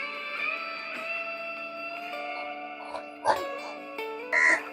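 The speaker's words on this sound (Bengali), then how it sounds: "প্রচুর ডগি এখানে।" Dogs near a boat landing at Chilika Lake give a few short barks and yips late on, over a steady droning engine or motor hum, with no talk.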